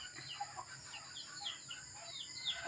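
Small red jungle fowl give soft, rapid clucks and chirps, fairly faint and continuous over a low background murmur.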